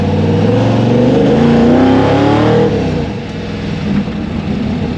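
The 1964 Chevy II gasser's engine, fitted with a tunnel ram and dual quads, idles loud and close as it warms up, a rough rumbling that rises briefly before settling lower.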